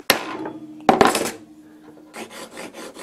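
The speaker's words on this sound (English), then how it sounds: "And now I'm going to use my regular punch," A metal punch is struck with a hammer in a workshop, giving two sharp, close metallic strikes with ringing decay, followed by a softer stretch of rubbing or scraping.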